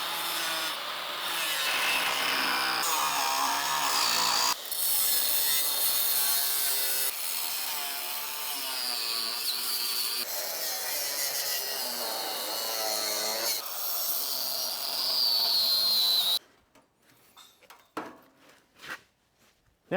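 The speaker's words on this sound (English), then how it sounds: "I'm going to start by cutting the bottom first, then the top, and then these." Power cutting through the steel frame of a 1967-72 Chevrolet C10 truck, a loud, continuous harsh rasping with a brief break partway, then fading to scattered quieter bumps at the end.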